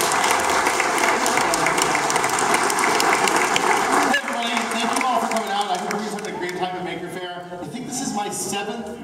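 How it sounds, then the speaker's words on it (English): A Maker Faire crowd breaks into loud, dense applause for Will Smith, a full roar of clapping that holds steady for about four seconds, then thins and tapers off as a voice begins speaking over it. "give a massive round of applause for Will Smith"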